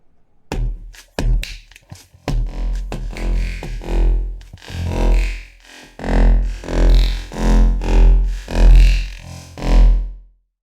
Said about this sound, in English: Blur is essentially a kind of spectral reverb, making use of spectral delay lines and feedbacking to create a reverb-like effect.